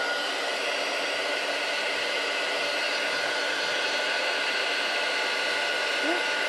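A heat embossing tool blasts hot air onto a handmade card, a steady, loud, close rushing whoosh that holds without a break for several seconds.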